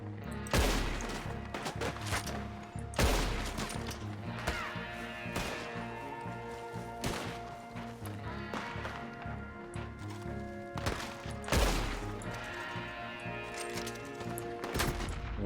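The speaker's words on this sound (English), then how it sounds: "there's that one shot kill. Yep. Rolling block rifle." Sniper fire from a rolling block rifle in Red Dead Online rings out as a run of sharp, loud shots at irregular intervals, with game sounds and music filling the gaps between them.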